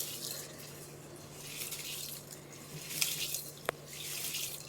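Grains for dosa and idli batter being rinsed under running water in a kitchen, a soft steady trickle with small splashes and one sharp clink, faint and with no voices.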